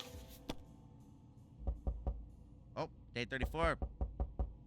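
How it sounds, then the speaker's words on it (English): Door knocking in the game 60 Seconds! Reatomized: several sharp knocks, first a spaced few, then a quicker cluster, close and clear, with someone speaking briefly between them. "Got knocks on the door."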